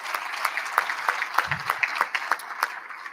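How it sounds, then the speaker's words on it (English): A quiet room at the 2025 National Soccer Hall of Fame induction ceremony in Frisco gives sparse, separate claps, a thin scattering of hands that comes in uneven bursts rather than a full ovation, with no talk. "Let's give them a round of applause."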